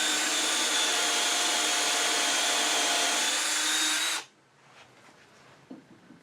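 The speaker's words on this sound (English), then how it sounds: "let's drill a hole appropriate to the screw we're using" A power drill whines loudly and steadily for about four seconds drilling a hole in wood, then cuts off abruptly, leaving faint handling noises.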